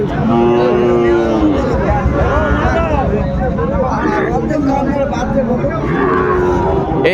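Cattle mooing repeatedly amid a busy livestock market selling Sahiwal bulls, with several long lowing calls over a murmur of people talking nearby.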